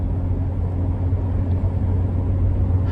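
Steady, loud low rumble of an 850 HP Procharged C7 Corvette Z51 engine heard from inside the car while cruising, a continuous droning hum with no distinct revs and no talk.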